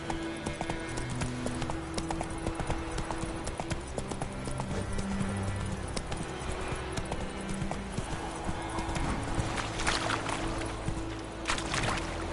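A horse gallops in a PS4 video game, with rapid steady hoofbeats that continue throughout, close and loud, and a brief whinny along with some splashing toward the end.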